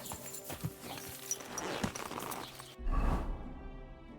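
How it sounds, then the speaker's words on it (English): Rhythmic clip-clop of horse hooves trotting in Kingdom Come: Deliverance 2, fairly close and steady, followed by a louder burst of rumbling noise near the end. "Pebbles, the Wonder Horse."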